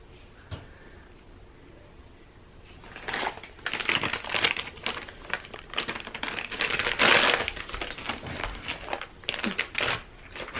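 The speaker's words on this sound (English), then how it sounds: "It's just a plastic bag." A plastic bag crinkles and rustles in irregular, close bursts that grow busier and louder before easing off, with no talking over it.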